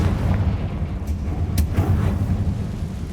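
A Confringo blasting spell explodes in the video game Hogwarts Legacy: a deep rumbling boom with two sharp cracking bursts about half a second apart over a continuous low roar.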